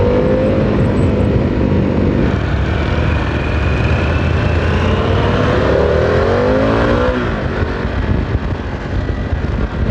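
A motorcycle engine in third gear climbs in pitch as the throttle is twisted, a loud steady drone with rising whine and wind noise from close up, no talk.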